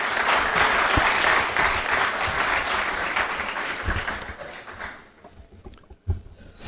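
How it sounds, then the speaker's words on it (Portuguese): An audience at a political signing event in Angola claps loudly and steadily, the applause thinning out and fading over the last couple of seconds. "Uma salva de palmas também."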